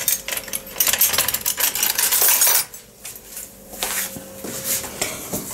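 A metal spoon clinks and scrapes against a cup of tea in a quick cluster of close, bright taps, then falls quieter with a few scattered knocks and no talking.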